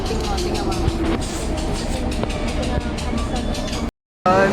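An MRT metro train at a station rumbles and clatters loudly nearby with rhythmic wheel clacks and squeals, cutting out briefly near the end.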